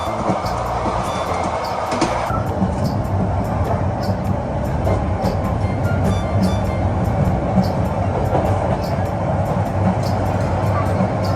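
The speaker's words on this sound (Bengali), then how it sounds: "কর্ণফুলী নদীর উপর দিয়ে ঐতিহাসিক কালুরঘাট সেতুর উপর দিয়ে যখন পার হচ্ছিলাম, তখন ট্রেন তার সর্বোচ্চ ধীর গতিতে এগোতে থাকে।" A train crawls across the historic Kalurghat bridge over the Karnaphuli river, giving a loud, steady low rumble with rattling carriages throughout. Passenger chatter runs faintly beneath it.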